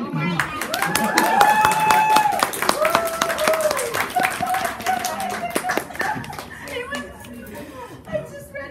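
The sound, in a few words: audience clapping at cosplay panel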